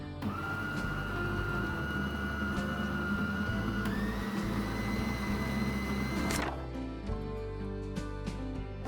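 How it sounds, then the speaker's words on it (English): Food processor pureeing onions, a steady whirring motor that shifts to a higher pitch midway, then stops, leaving quiet rattles and clicks. "puree them in the food processor until fine"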